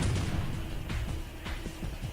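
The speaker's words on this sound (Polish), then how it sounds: "Wybucha." An explosion in the video game Devastation, a dense, booming blast with rumbling low-end bursts repeating over about two seconds, loud and filling the mix, with no voice over it.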